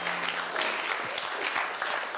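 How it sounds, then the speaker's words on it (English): Group of children clapping together in a round of applause, steady dense claps close by, brief and continuous. "Give yourselves a big round of applause."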